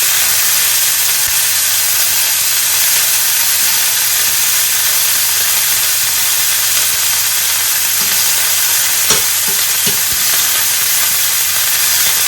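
Pork tenderloin fries in a hot cast iron pan, a loud, steady sizzle that runs unbroken close by, with a few faint clinks near the end.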